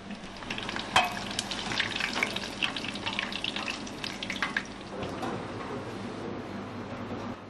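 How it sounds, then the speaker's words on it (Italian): Pasta sizzles and crackles as it fries briefly in hot oil in a restaurant kitchen, a steady bright hiss with popping spatters, close and fairly loud. "Il cuoco frigge una parte della pasta. Una cottura breve nell'olio bollente."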